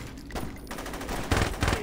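Sustained gunfire from the video game Saints Row 2, a dense rattling fusillade that swells louder toward the end, mixed with background game noise.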